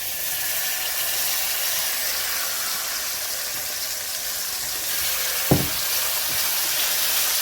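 Yogurt mixture for a matka biryani fries in a hot pan over low heat, giving a steady, even sizzle with one brief clunk midway and no talking.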